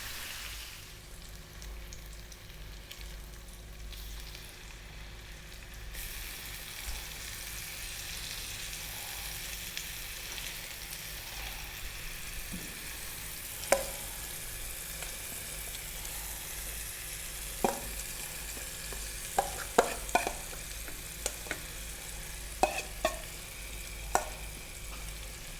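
Masala-marinated fish frying on a flat tawa, a steady broad sizzle throughout with scattered sharp pops and crackles growing more frequent toward the end, no voices.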